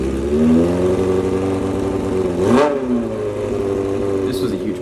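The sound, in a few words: motorcycle engine running and revving after engine swap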